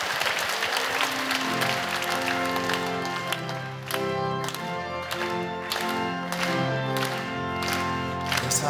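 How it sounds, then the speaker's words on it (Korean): Sustained applause from a church prayer meeting congregation, steady and full, with music playing underneath throughout. "우리의 모든 것 되시는 주님께 감사와 영광의 박수 올려드리시겠습니다"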